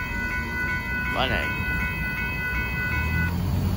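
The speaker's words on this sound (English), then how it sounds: "There goes that northbound Union Pacific intermodal train going by" A northbound Union Pacific intermodal freight train rumbles past at a road crossing in Austin, Texas, a steady close roar with crossing-bell tones ringing above it while someone speaks briefly.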